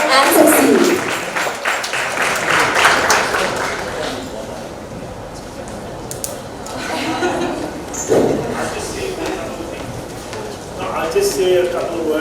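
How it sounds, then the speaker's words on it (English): Audience applause at an awards showcase for winners and finalists, a burst of clapping at the start that fades under a voice speaking, with scattered clapping returning later. "Let's give them a big round of applause"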